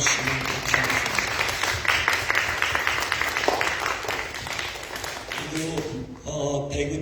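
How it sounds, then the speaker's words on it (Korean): Sustained clapping from a congregation at a Sunday church service, dense and even, fading out near the end as other sounds take over. "우리 한번 박수 쳐주시면 감사하겠습니다"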